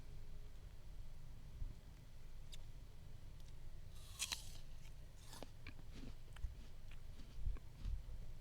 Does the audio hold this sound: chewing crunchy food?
yes